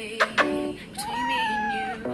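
A house cat meows close by: two short chirps, then one long, drawn-out meow with a brief cry at the end.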